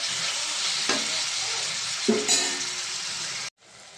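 Tomatoes cooking with fried onions in a pan for a drumstick and egg curry make a broad, steady sizzle with a couple of stirring scrapes, close by. Near the end the sound drops abruptly to a muffled hiss, with no talk.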